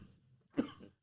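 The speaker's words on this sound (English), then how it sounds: "Smoker's cough." One short, dry cough from a man, close and fairly quiet, rising abruptly out of near silence and trailing off with a soft throat sound afterward.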